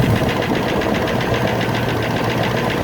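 A 1994 Range Rover engine idles up close with rapid, even ticking from its hydraulic tappets, a loud continuous clatter over a steady mechanical hum.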